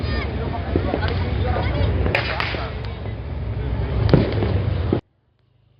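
Dense crackling pops and sharp bangs from fireworks and firecrackers burst continuously for about five seconds, loud and busy, then stop suddenly.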